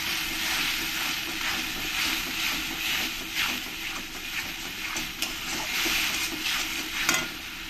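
Spices with salt, Kashmiri chilli powder and turmeric being sautéed for a Bengali rui fish curry, a continuous close sizzle with scraping stirring and soft bumps, no voices.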